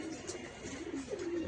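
Adult pigeons feeding in a rooftop loft, soft cooing and low bird murmurs running steadily under a faint background hiss.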